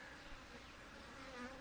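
Angry honey bees swarming around an opened, aggressive hive that needs requeening, a continuous dense buzzing drone with a few individual bees whining past nearby, faint and steady.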